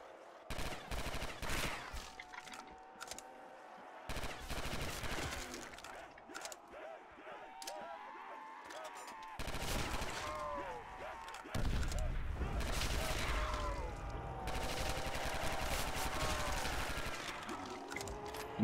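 Rapid automatic gunfire from Call of Duty custom zombies on the Dome map, loud bursts and sustained fusillades with mechanical clicks between them, over a player's talk.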